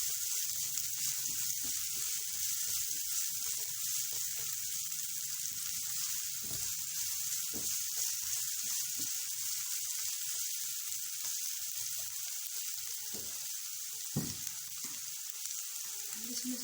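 Half a cup of chopped onion sizzles loudly in two tablespoons of hot oil in a pan, a dense, constant frying hiss close to the microphone with occasional soft stirring knocks.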